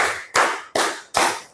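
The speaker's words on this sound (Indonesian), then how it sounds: "Tepuk lima." Three sharp hand claps sit at even intervals, each loud and close with a quick decay, and no voices come in. They are part of a counting and clapping exercise with a class.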